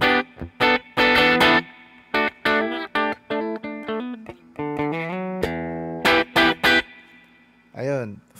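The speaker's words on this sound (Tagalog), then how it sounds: "May konting, ano, may konting reverb." Electric guitar through a Vox amp plugin with a little reverb added, heard as a run of loud, clipped strummed chords and picked single notes in a choppy rhythm, ending in a wavering bent note.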